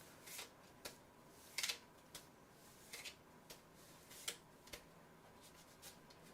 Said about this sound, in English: let's begin shuffling.